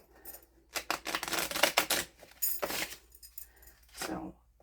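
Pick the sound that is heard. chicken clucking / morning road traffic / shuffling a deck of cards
shuffling a deck of cards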